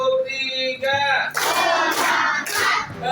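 Schoolchildren clap together in a classroom counting routine at the start of a lesson, giving dense bursts of group clapping over a steady tonal background, with a brief pause between rounds.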